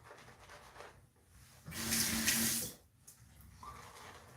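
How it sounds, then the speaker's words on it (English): Water tap running over a sink in a brief burst, a close, bright rushing splash for about a second amid faint room noise, with quiet handling before and after. "So I'm literally just kind of putting a little bit more water on over the sink."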